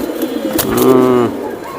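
A silver Giribaz pigeon gives a single clear, drawn-out coo close up, preceded by a brief softer note, with little else around it.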